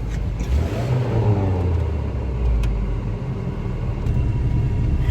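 Continuous low engine rumble and road noise from inside a moving Volkswagen Beetle, steady and fairly loud with slight shifts in pitch.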